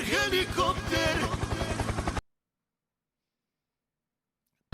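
Helicopter in the Project Zomboid video game, a steady rhythmic rotor thumping with a voice over it for about two seconds before cutting off to silence.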